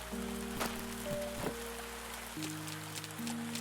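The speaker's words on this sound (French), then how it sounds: "Ah, il pleut encore." Rain falls steadily in the video game The Spirit & The Mouse, a soft continuous patter heard under sustained musical tones with a few brief brighter drips.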